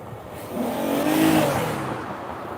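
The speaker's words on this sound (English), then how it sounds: "Whenever I hear someone revving their engine like that" A car engine revs up and eases off in one smooth swell lasting a couple of seconds, fairly close and loud against quiet outdoor background.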